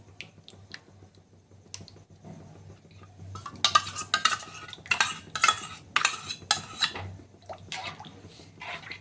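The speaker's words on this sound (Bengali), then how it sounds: "এই দইটা দিয়ে দেব।" A spoon stirs and scrapes as whisked yogurt goes into a spiced curry gravy for banana blossom kofta, with sharp metallic clinks and wet swishing against the pan in bursts, close up.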